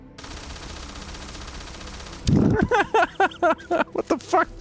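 A simple SMG fires in Starfield as a rapid burst of loud, close shots that pulse in quick succession after a stretch of steady background hum.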